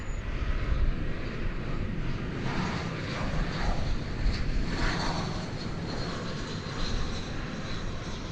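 Airliner engine roaring steadily at DFW Airport in the evening, a loud continuous broadband rumble from nearby, holding for several seconds with slight swells.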